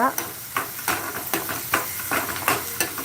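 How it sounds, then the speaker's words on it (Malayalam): Shallots sauté in hot oil after mustard seeds are spluttered, with a steady sizzle broken by regular scraping strokes of a spoon stirring the pan about twice a second. "കുഞ്ഞുള്ളി അരിയുക കടു പൊട്ടിക്കുക എണ്ണ ഒഴിച്ച് വഴറ്റുക"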